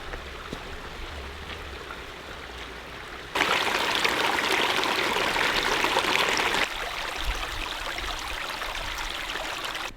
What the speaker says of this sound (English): There is lots and lots of water coming down off these mountains here.